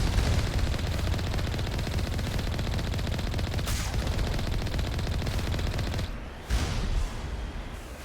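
Heavy turrets in Mass Effect fire a dense, continuous barrage of rapid gunshots, loud and close for most of the stretch, with a brief dip and a sharp burst near the end.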